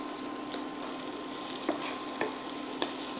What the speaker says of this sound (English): Then we're going to add our sausages. I'm gonna let those brown a bit.